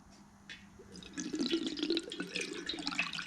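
Water poured out of an engine catch can on a VG30-powered Nissan Navara, a close trickling, splashing stream that starts faint and swells into steady pouring.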